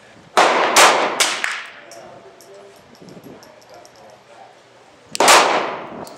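Glock 19 pistol fitted with a Trijicon RMR sight firing outdoors: a rapid string of three sharp, loud shots, a quieter stretch, then two more close shots near the end.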